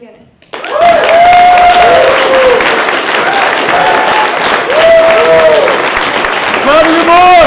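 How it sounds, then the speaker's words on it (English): Audience applause and cheering for Gavin McInnes begins after a brief quiet moment and continues loud and steady, with shouting voices and whoops rising over the clapping throughout. "Everyone, give a round of applause for Gavin McInnes."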